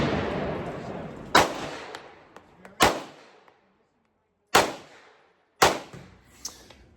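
A customized Glock 17 race gun fires four sharp, loud shots one-handed at an outdoor range, spaced irregularly with brief echoing decay after each crack.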